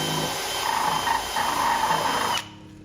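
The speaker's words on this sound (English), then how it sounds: "We have a Dremel tool." A Dremel rotary tool cuts into the rear bumper of an NC Mazda Miata, a close, high steady whine with slight load changes that stops abruptly near the end.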